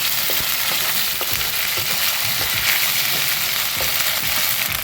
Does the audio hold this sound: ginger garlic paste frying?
yes